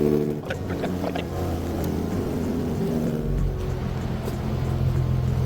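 A car engine with a newly installed S-Tune exhaust idling, a deep, steady rumbling drone that swells slightly as the revs rise near the end.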